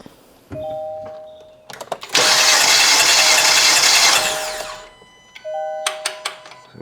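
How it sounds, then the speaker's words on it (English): A Kia Forte engine cranks over during a compression test, a loud sustained whirring burst of about two seconds, framed by quieter tool and beeping sounds before and after. "now Tyler can go crank the engine over"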